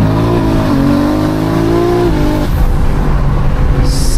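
A loud tuned 1400 bhp BMW M3 Touring engine revs up hard, pitch climbing for a couple of seconds before dropping off into a rough rumbling idle.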